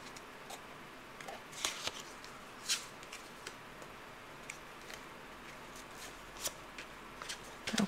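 Tarot cards being shuffled and drawn for a reading, giving scattered soft riffles and crisp card snaps spread unevenly over quiet room tone, with no talking.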